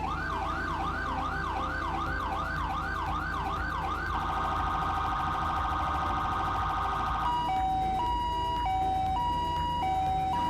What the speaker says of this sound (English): Now that high-low is actually from the Boston pack